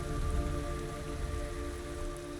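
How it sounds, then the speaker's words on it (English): Steady rain falling in Metal Gear Solid Delta: Snake Eater, an even wash of hiss and patter at moderate level with a low rumbling backdrop and faint tonal hum underneath, unbroken throughout. "It's raining blood."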